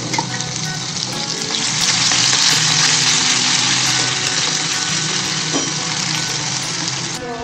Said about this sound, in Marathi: हा मसाला छान परतवते. छान तेल सुटेपर्यंत भाजायचं.